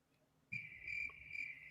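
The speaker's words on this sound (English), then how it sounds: "Oh, wait. I got crickets." A crickets-chirping sound effect plays as a steady, high, continuous trill that starts abruptly and carries on alone at a modest level.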